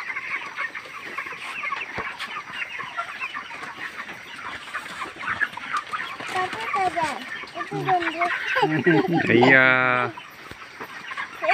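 Chickens cluck and call on a family poultry farm, a busy steady chorus throughout with a louder rising squawk near the end, as if a bird is being caught, while people talk briefly nearby.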